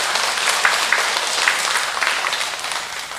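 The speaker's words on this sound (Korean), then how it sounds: "모두 힘찬 박수로 부탁드리겠습니다." A roomful of people at a monthly meeting clap together in a steady, hearty burst of applause that carries on evenly throughout.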